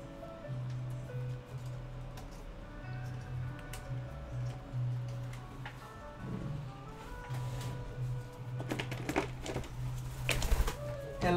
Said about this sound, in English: Hello, bird. Are you being mischievous today?